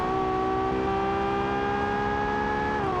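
A rear-engine super SUV in the game Automation pulls hard down a straightaway, its engine a loud, steady, rising whine with layered tones that climb through the run and dip briefly near the end.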